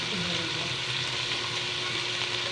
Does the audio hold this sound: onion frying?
yes